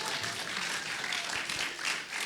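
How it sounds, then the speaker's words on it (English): A festival audience at a film shorts Q&A gives a round of applause: dense, steady, fairly soft clapping from many hands, spread evenly throughout. "One more round of applause while they make their way, please."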